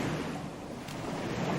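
Steady sea waves washing near the shore, a continuous broad rush with wind, moderately loud and alone with no voices.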